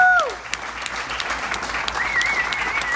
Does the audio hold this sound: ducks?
no